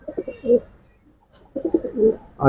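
Close Giribaj and silver pigeons, male and female, give low, rolling coos in two bursts separated by a short pause, with a faint flutter in between.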